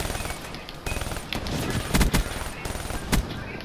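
Rapid gunfire in a first-person shooter game, loud bursts of automatic fire and sharp single shots crowding together, with a voice faintly underneath.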